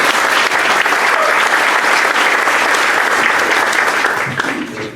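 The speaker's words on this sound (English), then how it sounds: "she deserves a round of applause just because of all the great work she does" Dense audience applause at a Rotary meeting, greeting the executive director, loud and sustained for about four seconds before tapering off near the end.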